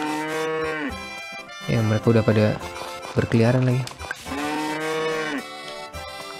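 Cattle in Harvest Moon: Friends of Mineral Town Remake give two long, drawn-out game moos, one at the start and another later, each clear and close. Someone talks over much of the clip between them.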